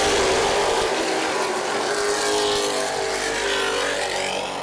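Late model race cars accelerate together at the green flag on a speedway oval, a loud, dense wall of engine roar sustained throughout, with high whining tones rising and shifting as the pack gets under way.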